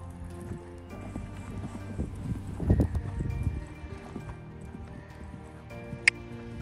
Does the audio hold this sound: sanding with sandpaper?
no